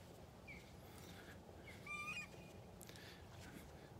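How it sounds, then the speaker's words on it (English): A willet walking along a beach in North Naples, Florida gives several shrill, strident calls, faint and somewhat distant over soft wind and surf noise, with a louder cry in the middle. "You can hear that willet bird screeching."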